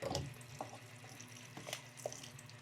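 Tap water runs into a sink while duck meat is rinsed, a steady close splashing stream with small clinks and drips, no voices.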